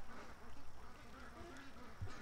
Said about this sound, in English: There's a bunch of ducks just coming back.